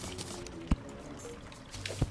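A waterfall flows in the video game Terraria, a soft continuous pouring wash broken by two brief dull thumps.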